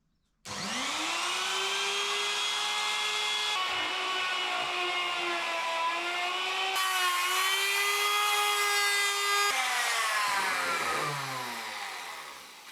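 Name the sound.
router cutting wood in passes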